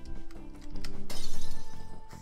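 Light bulbs shattering in the game Night in the Woods, a loud bright crash of breaking glass that rings out alone over a steady musical background, with no talk.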